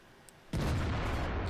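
IS-3 tank gun firing in the World of Tanks video game, a single sudden heavy boom after a quiet moment, followed by a loud rumbling sustained roar.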